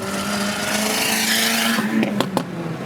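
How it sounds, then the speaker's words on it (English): A 400 hp turbocharged Ford Escort engine roars close by with a sustained, rising tone, then two sharp pops or clicks punctuate it near the end. "honestly, the car sounds really good."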